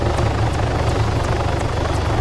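A helicopter flies in Altis Life, its loud steady rotor thump and engine drone close and continuous throughout.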